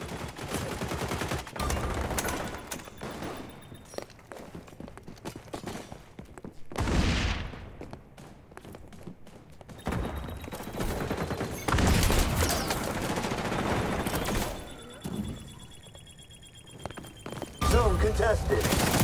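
Gunfire rattles through an XDefiant multiplayer match in rapid automatic bursts and scattered shots, some close and loud, some further off, with a whooshing blast partway through and players talking between volleys.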